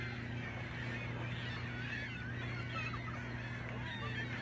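A dense chorus of a few thousand seagulls calling from a distance, continuous overlapping cries over a steady low background hum.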